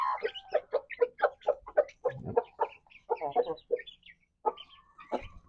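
Several chickens cluck and squabble close by in quick, irregular bursts as they are fed, with one brief louder squawk among them.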